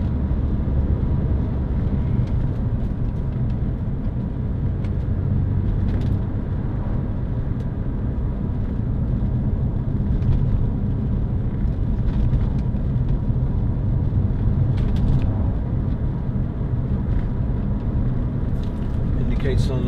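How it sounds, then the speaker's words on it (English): A 2006 Toyota MR2 1.8 VVT-i roadster's engine and exhaust drone steadily throughout from inside the soft-top cabin during a test drive, with a low continuous rumble and someone talking over it. "Nice noise from the engine, good exhaust sound."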